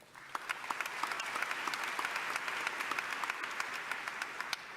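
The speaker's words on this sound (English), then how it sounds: "Let's give a round of applause to these outstanding students and their friends and family" An audience at the Miami Herald Silver Knight Awards ceremony applauds students, a sustained wash of many hands clapping, dense and even throughout, with no talk.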